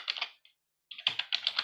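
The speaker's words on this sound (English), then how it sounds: "I'm typing something in here into the chat" Keys on a computer keyboard tapped in quick bursts: a few clicks, a short silence, then a faster run of light, close keystrokes, with no speech.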